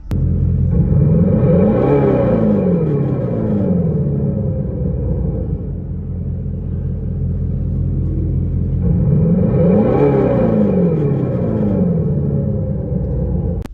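A deep rumbling synthetic exhaust note from an electric 2024 Dodge Charger Daytona EV swells twice, rising and falling like revs, with a low steady drone between the surges and no talking.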